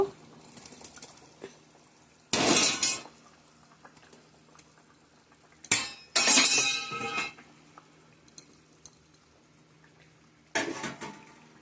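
Paneer goes into a pan of potato and pointed gourd curry. Three loud bursts of sizzling splash come up close, set apart by quiet stretches with light clinks of a utensil against the pan.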